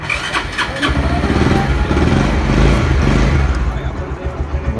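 A motorcycle engine starts and settles into a steady close, loud running rumble with a few sharp ticks at the start, heard over a few seconds.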